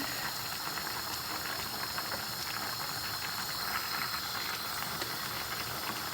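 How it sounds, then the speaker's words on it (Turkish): Pumpkin for a Turkish dessert simmers in its own juice in a pot, with no added water, giving a steady, close hiss of steam and bubbling. The sound runs evenly throughout without pauses, and nobody speaks. "Hiç su koymadan kaynatıyoruz."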